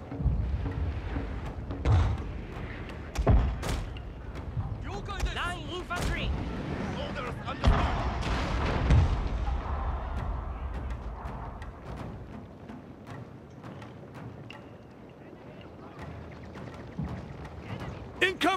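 Distant artillery booms from a naval bombardment during a siege battle in Shogun 2: Fall of the Samurai, several dull thuds spread over a rumbling battlefield ambience, with spoken voices heard intermittently.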